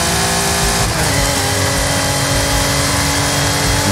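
A DMC DeLorean's engine revs loudly and continuously in the Forza Horizon 5 racing game, a dense steady roar with no pauses and no talk over it.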